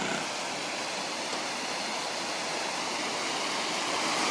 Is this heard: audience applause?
no